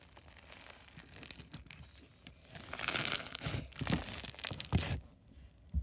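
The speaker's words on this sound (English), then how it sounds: "It's so crunchy. Makes great bubble pops." Crunchy slime mixed with sugar beads is squished and kneaded by hand, giving close, soft crackling and crinkling pops that build and turn more intense toward the end.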